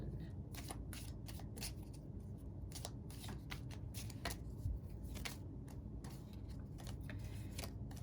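Tarot cards being shuffled and drawn up close, a continuous riffling and slapping of card stock with rapid flicks, steady and moderately loud throughout.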